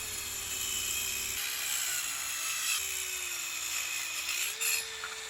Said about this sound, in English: Let's go outside and cut some wood. 2x4 stud, straight cut.